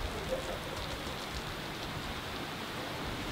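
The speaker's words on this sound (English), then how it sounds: "just as our session ended, the rain is coming on really heavy now" Heavy rain pours down at the Area 27 race track as a soft, constant hiss, fairly faint and unbroken, with no voices or other sounds.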